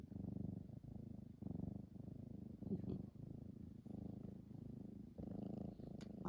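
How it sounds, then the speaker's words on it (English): Close, quiet cat purring with a steady rhythmic rumble, pulsing in regular cycles as the cat breathes in and out. "Listen at that purring."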